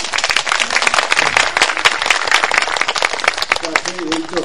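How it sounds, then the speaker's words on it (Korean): Audience at a regional union members' event in Busan claps loudly and densely throughout, with voices speaking over the applause. "다시 한 번 더 박수 보내주세요."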